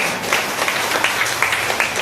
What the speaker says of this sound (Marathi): वर करा, टाळ्या वाजवा.